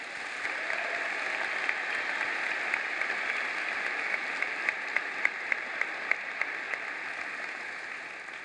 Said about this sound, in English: I would like to give a special round of applause to those teachers listed for everything they did for our school